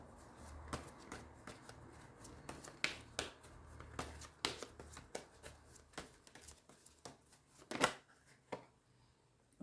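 Tarot cards being shuffled and drawn, a run of crisp riffling slaps and flicks at close range with short pauses between bursts, and no talking.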